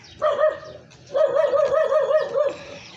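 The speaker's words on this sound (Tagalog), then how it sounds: "Sinasalubong ko ng aso." A dog in a residential village barks and yips in two short bursts, fairly close and clear over quiet surroundings, with no speech.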